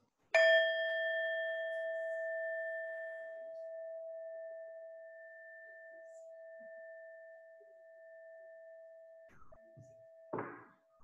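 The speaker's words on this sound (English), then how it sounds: "as the sound of the bell resonates to a finish" A single bell struck once in a quiet meditation setting, its pure ringing tone sustaining and slowly fading for several seconds before a soft knock near the end.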